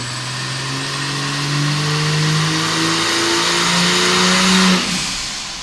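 A turbocharged Ford Falcon with a converted naturally aspirated engine, revving hard on a dyno at 6 psi wastegate pressure: a loud, close engine note climbing steadily through the gears for several seconds, then abruptly cutting off.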